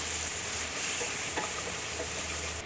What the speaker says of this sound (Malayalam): ഇനി അടുത്തതായിട്ട് തക്കാളി ഇട്ട് കൊടുക്കും കുറച്ച് കറിവേപ്പില കൂടി ഇടാം അപ്പം നമ്മൾക്ക് ഈ തക്കാളിയും കറിവേപ്പിലയും ചെറുതായിട്ടൊന്ന് വാടി വന്നോട്ടെ